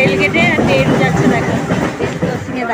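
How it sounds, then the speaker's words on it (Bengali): A train rolls past the Kakulia railway level crossing, a loud, close rumble with rhythmic wheel clatter, while a voice talks over it. "আর এই যে এখন ট্রেন যাচ্ছে"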